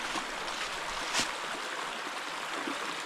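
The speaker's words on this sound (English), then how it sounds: "I found an easy way across the creek" Water flowing in a creek along a blazed woodland trail at Locust Lake State Park, Pennsylvania, a steady broadband rush with a brief louder splash near the middle, close by and heard alone without speech.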